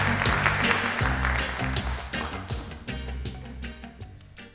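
An audience at a Black-in-America poetry and art event applauds to welcome a spoken-word poet, a steady patter of many hands clapping over a low musical bed that slowly thins out.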